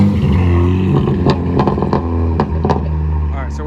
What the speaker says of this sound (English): here's a little first warm start. It's pretty loud.